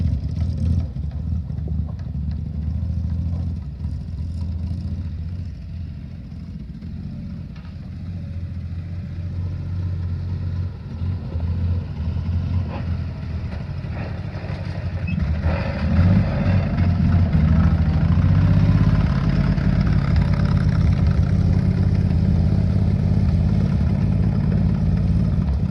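The engine of a 1960 Grumman Olson truck, unrun since the 1980s, rumbles along while being driven. A continuous low, throaty drone grows somewhat heavier and louder in the second half with no break.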